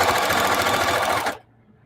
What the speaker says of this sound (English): I'm going to stop sewing on this edge when I get to within a 1/4 inch of the edge